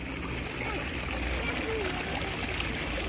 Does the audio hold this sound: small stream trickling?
yes